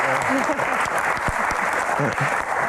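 Dense applause from a crowd, steady and loud throughout, with voices calling out over the clapping.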